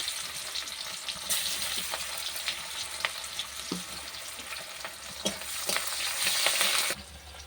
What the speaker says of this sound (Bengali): এরপর আমি পেঁয়াজ কুচি করে রেখেছি, পেঁয়াজটা এই তেলের মধ্যে দিয়ে দিলাম।